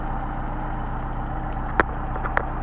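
A Mercedes 190SL engine idling on Solex 44PHH carburetors: a low, even rumble held steady throughout, with a couple of brief sharp clicks near the end and no talk.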